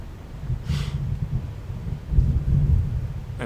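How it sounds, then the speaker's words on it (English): Thunder rumbles during an outdoor live stream, a low, continuous roll that swells toward the end, with steady rain-like hiss and no talking. "And it's thundering."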